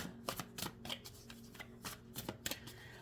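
Tarot cards being shuffled at close range, bursts of crisp riffling and slapping in uneven clusters, moderately quiet and with no voice over it.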